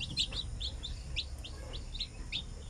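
Newly hatched chicks peep from inside a secondhand incubator, a run of short, bright high chirps repeating every fraction of a second over a low steady hum.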